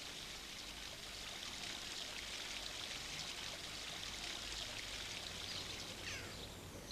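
The Dolting Water, a swift-flowing stream at St. Aldhelm's Well in Shepton Mallet in the Mendip Hills of Somerset, rushes and gurgles steadily from start to finish at close range, with faint birdsong in the background.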